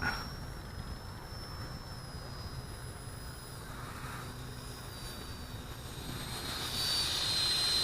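A Freewing Rebel V2 RC jet on a 5S 2700 battery whines steadily with a high electric ducted-fan tone, fairly distant, growing louder toward the end as it passes closer.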